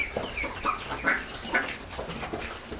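Clucking, honking calls from a Canada goose and a family of ducks wandering a residential street, a run of short, fairly close squawks and quacks in quick irregular bursts.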